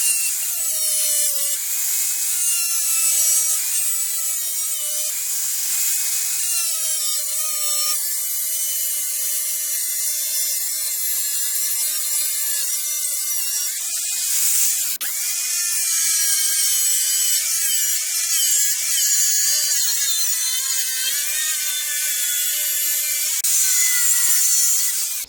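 An angle grinder fitted with a flap disc grinds paint off metal for a MIG-welded bed repair, giving a steady high-pitched whine with harmonic tones that shift slightly as the load changes, heard close and continuously with no talk.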